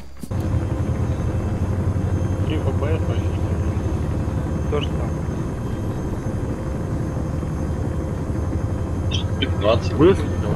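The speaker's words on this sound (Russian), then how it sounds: "Наш южный вертолет." A helicopter in ArmA 3, a steady low rotor drone that holds loud and constant throughout, with voices talking over it.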